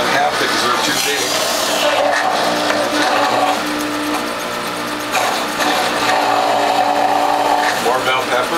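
A WHF juicer grinds halved red bell peppers, a loud, continuous whirring and crunching motor drone with slight pitch dips as pieces feed through, running steadily throughout.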